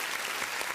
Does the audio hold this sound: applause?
yes